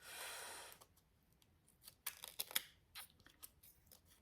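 Scissors cutting paper for a junk journal cover: a soft hiss, then a quiet run of crisp snips and crunchy cuts, close but faint, with no voices.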